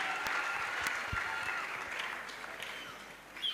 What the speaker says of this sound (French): Offrons l'acclamation à Jésus-Christ. Clap to Jesus.